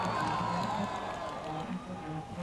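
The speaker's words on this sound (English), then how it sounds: "And the crowd absolutely loves it." Distant crowd cheering from the beach at a pro surfing contest in Rio, a faint broad roar carried under nearby voices and steady ambient noise.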